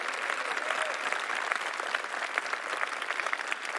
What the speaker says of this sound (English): can we give her a round of applause for this great work that she's doing?